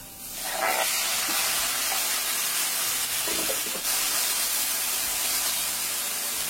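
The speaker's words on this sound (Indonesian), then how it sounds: "Setelah aromanya itu keluar, kita tambahkan tomatnya." Chopped tomatoes hitting hot oil in a pan while cooking tofu egg soup, a loud sudden sizzle that settles into a steady close hiss and continues throughout, with no talking.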